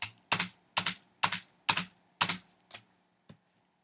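A run of crisp computer keyboard presses, about seven taps at a steady pace that slows and fades toward the end, close and quiet.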